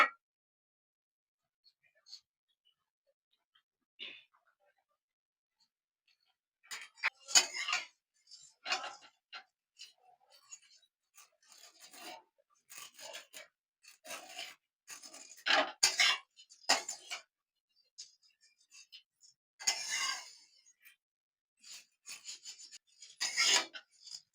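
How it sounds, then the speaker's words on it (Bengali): Raw vermicelli is stirred and scraped in a hot pan, giving close dry rasping and scraping strokes in irregular bursts separated by quiet pauses, with no steady sizzle. "এই কাঁচা সিমাইটা ভেজে একটু লাল লাল করে নেব"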